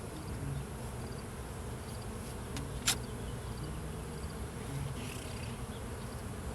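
Steady dense buzzing of many bees close up during a hive inspection, continuous and even, with a brief click partway through.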